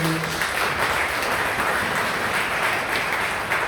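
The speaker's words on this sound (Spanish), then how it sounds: "Denle un fuerte aplauso a la palabra de Dios" A church congregation claps together in a dense, even round of applause that keeps going for several seconds, a brief tone heard at the very start.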